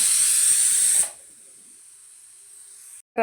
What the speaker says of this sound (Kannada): whistle ಹೊಡಿತು of ಮಾಡ್ಕೊಂಡ್ಬಿಡೋಣ